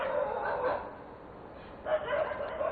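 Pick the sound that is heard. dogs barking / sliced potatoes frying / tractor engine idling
dogs barking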